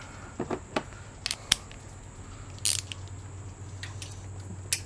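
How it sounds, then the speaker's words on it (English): Wrench clicks and metallic ticks while a 15mm bolt behind a timing-belt tensioner pulley is worked loose, a few sharp close clicks over a steady low engine-bay hum. "So I'm going to go ahead and remove that bolt in particular."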